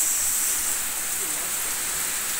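Rain falling steadily outdoors during a hunting trip, a dense even hiss that holds at a constant level for the whole moment with nothing else standing out.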